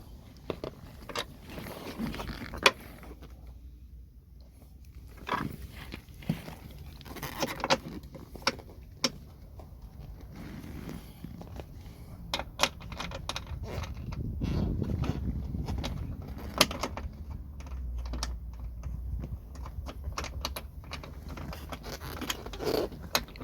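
Metal nut being worked onto a seat mounting stud inside a Toyota LandCruiser during a driver's seat swap: scattered small clicks, scrapes and ratcheting taps, close and fairly quiet, irregular across the whole span with no talk.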